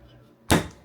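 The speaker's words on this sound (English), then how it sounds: "Soft close cabinets." A soft-close cabinet door in a 2025 Grand Design Imagine 2300MK travel trailer shuts once with a single muffled thump after a quiet lead-in.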